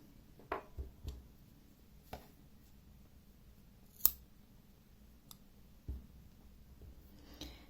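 Scissors snip through crochet yarn in a few quiet, sharp clicks spaced across a few seconds, close and clear against near silence.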